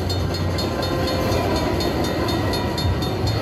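Rumbling train sound effect from the red train feature of a Cash Express Luxury Line slot machine bonus, a steady loud chugging roar running throughout with a faint rhythmic clatter underneath.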